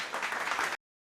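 An audience at a tech talk on cloud trust, compliance and security applauds in a short, dense burst of clapping that cuts off abruptly after under a second.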